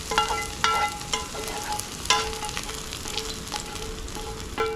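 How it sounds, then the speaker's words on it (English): Sherry deglazes a pan of garlic chicken, a soft steady sizzle broken by sharp clinks and scrapes of a utensil against the pan. "We're going to deglaze the pan with a little sherry before we serve our chicken"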